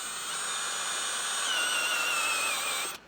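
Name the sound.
drilling with a step drill bit during running board install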